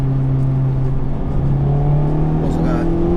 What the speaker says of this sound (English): I'm driving my Type R in the salt.